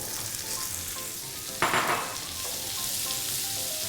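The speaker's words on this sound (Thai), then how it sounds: "ฟักที่คุณผู้ชมหั่นเตรียมไว้นะคะ เอาลงไปผัดกับกระเทียมค่ะ" A burst of sizzling as wax gourd drops into a hot wok with garlic, then a steady crackling fry continues at moderate volume.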